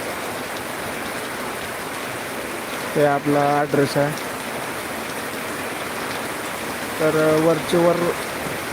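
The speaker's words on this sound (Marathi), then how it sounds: "आणि जोरदार पाऊस उरलेला आहे" Heavy rain falls steadily with a constant loud hiss, outdoors at a village vegetable patch during brinjal picking, while someone speaks in two short stretches.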